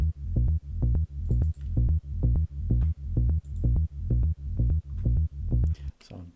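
Unprocessed bass sample for a progressive house track plays as a steady run of about a dozen evenly spaced, punchy low notes, loud and alone, with a brief noisy swell at the end.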